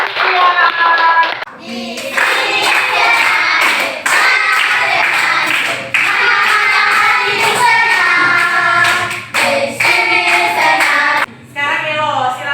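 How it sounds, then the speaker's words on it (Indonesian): Clapping from a classroom group of children rises in short bursts over music and voices, with brief pauses between rounds of loud hand claps. "beri tepuk tangan untuk dia"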